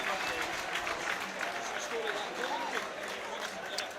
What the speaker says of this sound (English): He gets some applause from the Partick fans as well